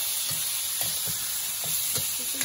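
Carrots, potatoes, onions and garlic fry in a pan outdoors in a garden, a steady close sizzle broken by repeated scraping stirs at an uneven rhythm, with no voices.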